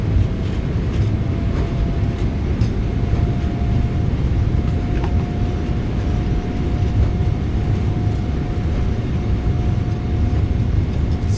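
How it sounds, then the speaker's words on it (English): A PMDG 777-200ER in a flight simulator rolls out on landing with thrust reversers deployed, a loud sustained engine roar and rumble that holds steady throughout. "Reversers are out, decelerating."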